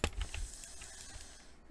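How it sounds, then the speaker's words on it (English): Close-miked computer keyboard typing during a Hypixel Bedwars game: a quick cluster of sharp key clicks at the start, then fainter scattered taps over a short, quiet stretch. "I did place my mic next to my keyboard sound, so my videos can be a little more enjoyable with the ASMR"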